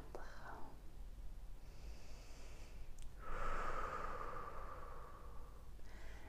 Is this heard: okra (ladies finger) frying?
no